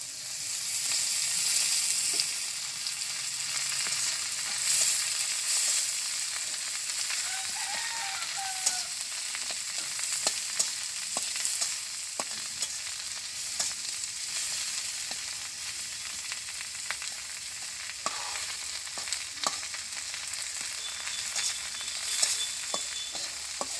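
Onion frying in oil with salt and turmeric, a steady broad sizzle throughout with scattered clicks and pops of stirring, close and moderately loud, no voices.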